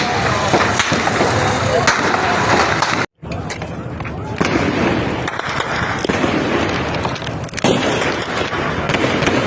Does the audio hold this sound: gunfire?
yes